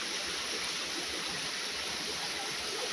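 Stream water rushes between large rocks in the hills of Bandarban as a steady, close, broadband gush with no pauses or voices.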